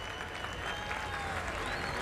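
Race fans applaud at the track during 2004 MBNA 400 qualifying, a broad, steady wash of clapping from a large crowd with a faint voice mixed in beneath it.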